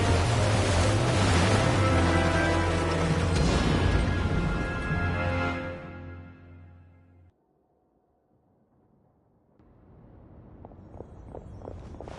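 Heavy rushing surge of water as the surface opens up in Genshin Impact, loud and churning like surf before dying away to near silence, then a faint watery return with soft ticking.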